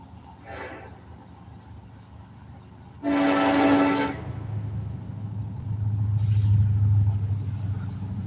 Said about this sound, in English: That train did not have its bell on.